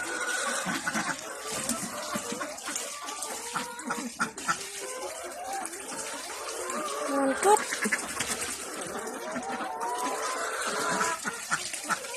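Ducks quack and chatter close by on a small mixed farm that also keeps laying hens, a busy jumble of calls alongside people talking.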